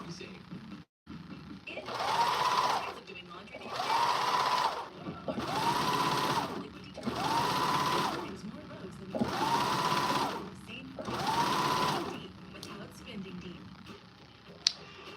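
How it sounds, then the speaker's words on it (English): A sewing machine runs in six steady bursts of zigzag stitching, each a few seconds long with short pauses between, close and clear. "You can use your sewing machine on a zigzag stitch."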